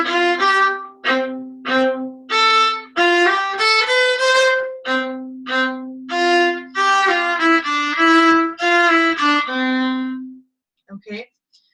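A viola plays the A section of Minuet 3, a melodic string line of separate bowed notes that are clear and close, ending on a long held low note followed by a few faint plucks.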